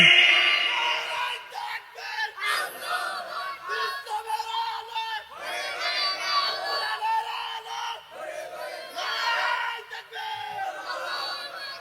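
A large crowd at a Bengali Islamic sermon gathering shouts the takbir chant in repeated surging waves, voices loud and massed, each roar swelling and fading in a rough call-and-response rhythm.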